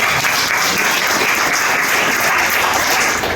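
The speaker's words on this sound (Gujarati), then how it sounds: "પહેલા તો આપણે એમના માટે જોરદાર તાળીઓ પાડીએ" An indoor audience gives hospital doctors, nurses and staff a steady, dense round of clapping, even and sustained from start to finish with no voices standing out.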